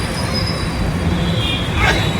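A metro train runs on the elevated Yellow Line overhead, its wheels squealing with a high, sustained screech above steady rumbling rail noise, loud and close throughout, with a sharper squeal near the end.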